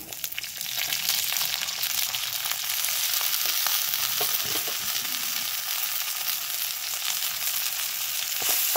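Green peas tip into a hot pan and fry in oil, a close, continuous crackling sizzle with occasional stirring scrapes, heard alone without voices.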